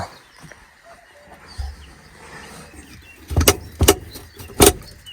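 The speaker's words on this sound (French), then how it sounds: "Je vais voir peut-être pour tirer le frein à main si j'arrive à bloquer peut-être." Three quick ratcheting clicks close by as the handbrake of a Fiat 128 wreck is pulled up, following a quiet stretch of low background noise.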